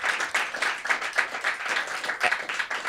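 A comedy-night crowd claps and cheers for itself, a fairly dense, moderately loud round of applause with uneven bursts, no voices over it.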